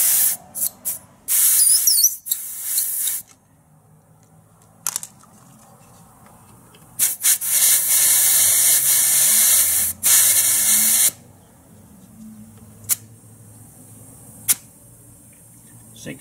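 Bursts of air hiss from the bleeder on a tire pressure tool set on dual truck wheels, several sharp releases of varying length, some short and one lasting several seconds, close and loud with quiet gaps and faint talk.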